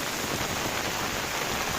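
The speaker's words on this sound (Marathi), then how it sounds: "पाऊस आजपासून चालू झाला आहे" Rain falls on open village fields, a loud, continuous wash of drops that holds constant and dense from start to finish, with nothing else standing out.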